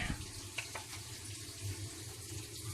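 Water runs steadily as it drains from a solar-heated hot water tank, a continuous close hiss and trickle with a small splash near the start.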